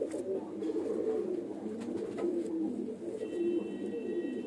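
A female Andhra pigeon coos in low, repeated throaty phrases nearby, steady and moderately quiet, with a faint high whine appearing toward the end.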